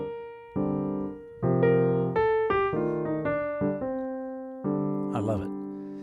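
A rhythmic chord pattern moves over a 2-5-1 progression, with several sustained, close chords struck in sequence at varying lengths and ringing clearly with no talking over them.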